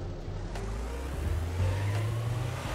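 A car in the video game Trader Life Simulator 2 pulls away, its steady low engine drone rising slightly in pitch as it accelerates, heard alone at moderate volume.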